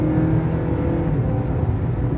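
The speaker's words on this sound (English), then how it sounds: "The engine is loud, though. Did y'all hear that?" A 2016 Mazda CX-5 engine under acceleration, a loud, steady drone heard from inside the cabin with a rising hum, and no one speaking.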